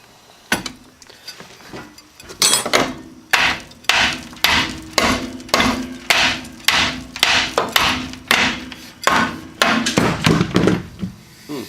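Repeated sharp hammer blows ring out on a metal ball joint during a truck front spring replacement, about two per second in a steady rhythm, loud and close, with a metallic clank on each strike.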